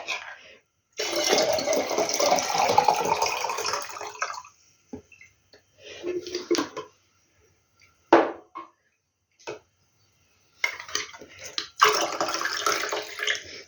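Water pours from a jar held by its lid in a steady splashing stream for a few seconds, then stops; short trickles and drips follow before the pouring resumes near the end.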